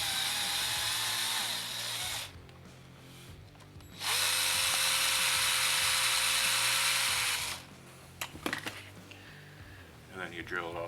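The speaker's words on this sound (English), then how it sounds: "You drill it out the back side like that" A power drill bores a hole through an RC car roll cage for a Redcat Kaiju, two loud steady bursts of whirring separated by a pause, then a few clicks and handling noises.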